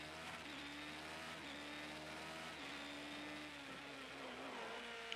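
Race car engine in the Project Cars 2 racing game, a GT3 or Formula X car, roaring steadily with rising and falling pitch as it shifts through gears, loud and continuous with no voices.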